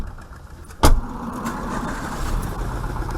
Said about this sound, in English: A car, a drive through the city, to a drive-through.